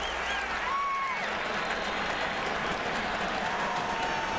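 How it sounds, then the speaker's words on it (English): A college football stadium crowd at South Carolina versus Clemson roars and applauds in a dense, sustained wash of cheering, with a few whistles rising above it. "You can feel this crowd getting into the ball game."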